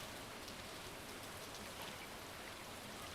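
Steady rain falls in the farming game Stardew Valley, a constant soft hiss of drops across the whole stretch, even and moderately loud, with no voices.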